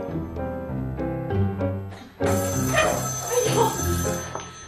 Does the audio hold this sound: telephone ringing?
yes